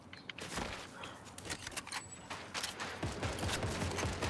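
Gunfire from other players in a team shooter game: a steady stream of sharp cracks and rapid bursts at moderate distance, continuing throughout with no voice over it.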